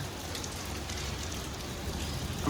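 Heavy monsoon rain pours steadily outdoors, a dense, even roar of drops hitting surfaces with no pauses, filling the whole scene.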